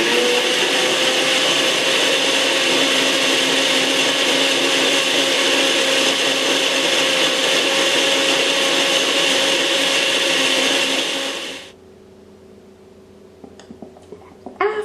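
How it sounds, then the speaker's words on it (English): A countertop blender runs at high speed through a coconut mixture, a loud, steady whirring drone for about twelve seconds before it cuts off, followed by a few faint clinks and knocks. "Cover blender with lid and beat at high speed until all the ingredients are well blended and a creamy texture is formed"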